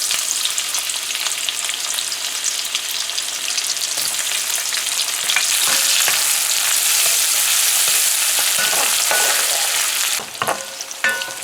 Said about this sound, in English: we're gonna fry our onions for about 45 seconds